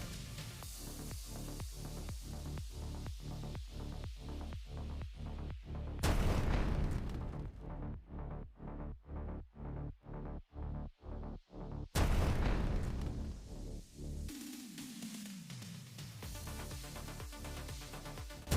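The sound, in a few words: explosions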